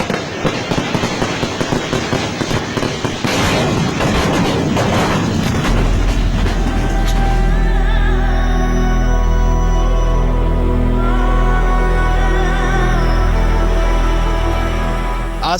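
Rapid, dense crackling bursts of fireworks at the Puttingal temple festival in Kerala for the first several seconds, then a heavy sustained roar with a deep low rumble that fades slowly.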